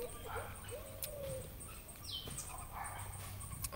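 Birds call in a home garden, a few short chirps and a soft hoot-like whistle at moderate distance over a low steady outdoor hum, with no talking.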